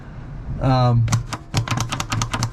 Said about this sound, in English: Is the dimmer switch. Now we're getting a click.